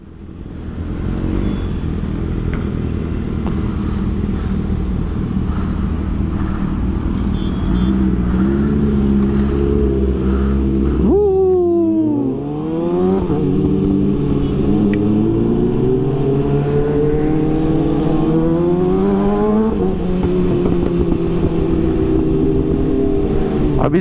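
Loud Kawasaki Ninja H2 motorcycles riding along a highway, a steady roaring engine drone with a sharp downshift and rising revs midway, close and continuous without talk.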